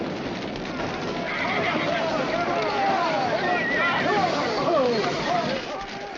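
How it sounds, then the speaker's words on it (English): Horses whinny and neigh amid a busy, noisy scene of horses being hitched to wagons at night, with hooves clattering and voices shouting underneath throughout. "Get the horses out of the corral and hitch them up."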